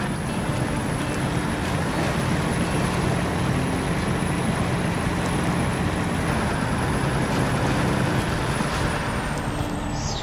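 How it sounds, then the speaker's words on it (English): A 6x6 truck driving in the video game SnowRunner, with a dense, steady engine roar and rumble that carries loudly and continuously for ten seconds with no speech. "I'm gonna just drive my truck."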